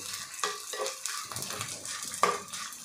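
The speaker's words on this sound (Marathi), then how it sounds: "अशा पद्धतीने आपल्याला सगळा डिंक हा तळून घ्यायचा आहे" Edible gum (dink) frying on low flame, a soft sizzle under repeated light scraping strokes of a spoon stirring in the pan, with a couple of faint metallic taps.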